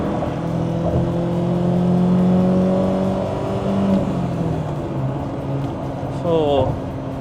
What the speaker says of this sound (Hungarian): Felhúzom, ezt hallani kell.